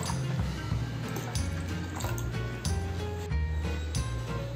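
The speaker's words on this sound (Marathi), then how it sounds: "आपण आता याच्यात पाणी घालून भिजत घालू याला 5 ते 6 तास।" Water is poured onto washed lentils in a bowl to soak them, a steady splashing fill with clinks of the container, close by.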